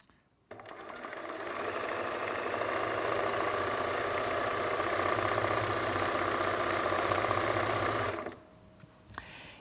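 An embroidery sewing machine stitches steadily for about eight seconds in a close, even mechanical whir, starting abruptly and then stopping, with no talking.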